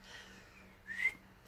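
A person attempts to whistle, producing a faint breathy tone that swells into a brief, louder whistled note near the end, close by and alone.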